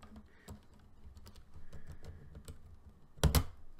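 Plastic keycaps pulled off a Ducky One 2 Mini mechanical keyboard, giving scattered soft clicks and taps, then one loud, close snap near the end as a cap comes free.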